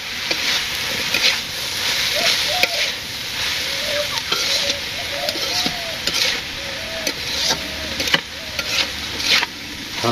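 Fish sizzles steadily in hot oil in a pan during village cooking, with a constant hiss and frequent scraping and stirring clatter of a utensil against the pan, up close and loud.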